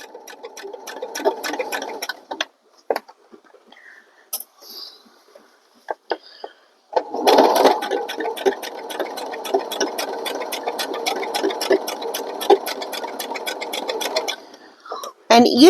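Sewing machine stitching a jeans repair, running in a steady rapid chatter for stretches, with a short burst early, a pause, then a long continuous run from about seven seconds on; a voice talks over the first part.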